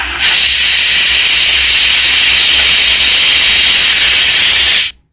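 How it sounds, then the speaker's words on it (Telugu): A pressure cooker on a high flame lets out a loud, sustained hissing steam whistle that runs steadily for about five seconds, then cuts off abruptly, with no voices. "గిట్లా విజిల్లు నేను పెద్ద మంట మీద ఒకటి చిన్న మంట మీద ఓ రెండు విజిల్స్ వచ్చిన వరకు ఉడకబెట్టుకున్న"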